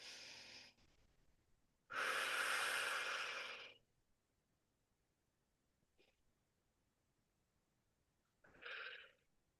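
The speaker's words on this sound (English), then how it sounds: "Breathing all the while." Slow breaths during a guided stretching exercise: a soft breath, then a long, loud exhale lasting about two seconds, a faint sound, and a final shorter breath near the end.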